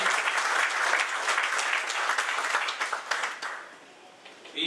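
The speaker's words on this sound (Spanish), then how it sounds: "Un fuerte aplauso para la señora." Seminar audience applauding a speaker at a national conference, brisk dense clapping that holds steady, then thins and fades out over a few seconds.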